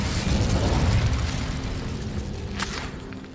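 A fire spell cast in the video game Hogwarts Legacy bursts out with a loud, close blast, then settles into a steady rushing roar that fades slightly, with a brief crackle near the end.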